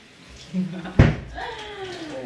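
A door bangs shut with a single loud, close thud, with voices talking quietly before and after it.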